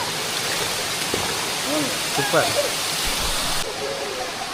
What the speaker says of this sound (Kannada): ಅಲ್ಟಿಮೇಟ್ ಆದಂತಹ ಒಂದು ಜಲಪಾತ